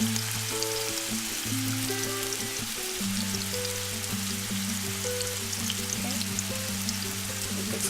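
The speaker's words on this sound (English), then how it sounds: "Careful, because the pan is hot and that oil is very hot. Drop your meatballs in." Turkey meatballs fry in very hot oil in a pan, giving a steady, close sizzle and crackle that runs the whole time alongside a low tonal hum.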